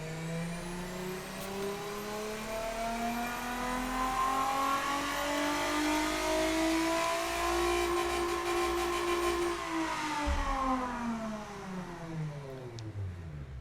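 A powerful twin-turbo car engine in the video game Automation revs steadily higher, holding a rising whine, then drops off sharply near the end.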